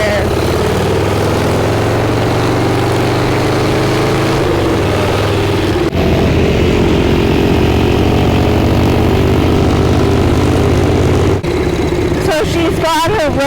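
A motorcycle engine running steadily at close range through a ride on the first outing of the year, with a continuous loud drone and shifting pitch, plus brief speech near the end.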